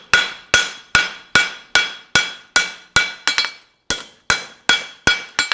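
A hammer strikes a horseshoe on an anvil while it is forged, a steady series of about a dozen sharp ringing blows at a regular pace, each one decaying before the next, with a brief double tap partway through.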